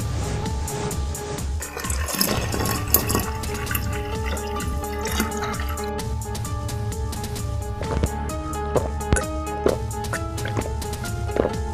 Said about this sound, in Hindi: झुमरू बाल्टी से कुएं का पानी खींचता है।